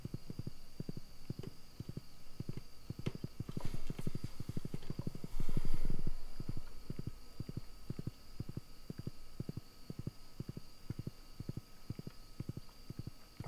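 Steady clip-clop of a horse walking in the Stardew Valley video game, evenly spaced hoof thuds over a faint background hum, with a brief louder swell midway.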